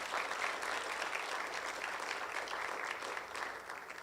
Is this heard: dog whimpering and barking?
no